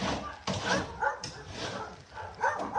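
Puppies at a shelter bark and yip in short bursts of high, sharp calls that come close together and overlap, with some whimpering between them.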